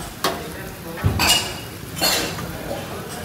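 Bhaji pala with potato and cabbage stirred in a pot, giving three separate scraping, clinking strokes against the metal about a second apart, close and moderately loud with no voices.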